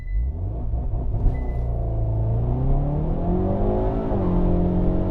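A 2022 Hyundai Veloster N with a dual-clutch gearbox launches under launch control, its engine roaring loud and close as the revs climb steadily through a long pull, with a brief upshift partway through.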